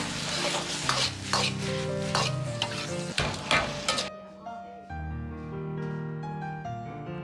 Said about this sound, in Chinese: 最后再放入少许的香油，增香提味，翻炒均匀即可关火出锅